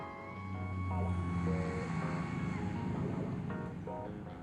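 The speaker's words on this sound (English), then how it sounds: "What's that drone?" A drone hums overhead in Scarlet Nexus, a steady tonal whine with shifting pitches, heard alongside a sustained roar and talk.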